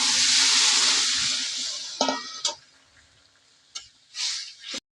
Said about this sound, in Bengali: এবার আমরা তরকারিটা ঢেলে দিচ্ছি